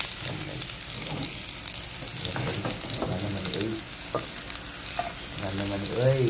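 Garlic, onion and green chili sauté in a hot pan for sardine bihon, a steady crackling sizzle throughout with occasional stirring scrapes and a brief louder burst near the end, with a voice heard faintly.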